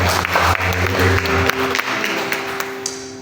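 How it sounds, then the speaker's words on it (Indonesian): A church congregation applauds for God during a sermon, with loud, dense clapping and a sustained musical tone underneath, fading slightly toward the end. "Kita berikan tepuk tangan buat Tuhan."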